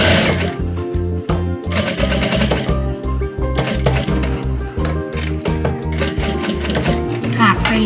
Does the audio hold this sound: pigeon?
no